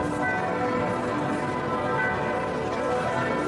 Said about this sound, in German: Feierlich auch die Glocken